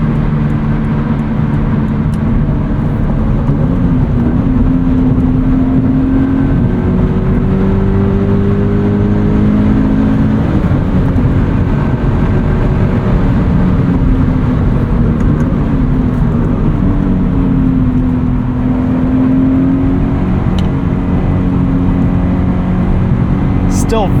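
A Subaru BRZ engine drones steadily from inside the cabin while driving, with rising and falling rev tones under continuous road and wind noise, and no voice is heard.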